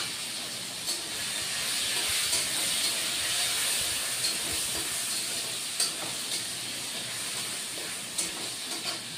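Chopped tomatoes sizzle in a pan of papaya vegetable curry, a steady close hiss with occasional faint clicks and stirring sounds throughout, no talking.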